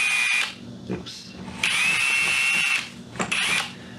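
A power drill bores into a battery box in several bursts, loud near whining runs starting and stopping with brief pauses between, the longest lasting about a second.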